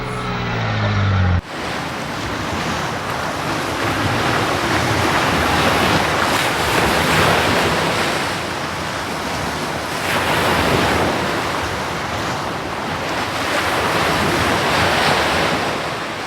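Sea waves at the shore in a Malayalam drama scene, a continuous loud wash of surf with rising and falling swells and wind noise, following a brief cut-off sound at the very start, with no talk.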